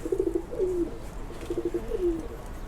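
Pigeons and their chicks coo close by in two short soft phrases, each a few quick pulses then a drawn-out falling note, over faint room noise.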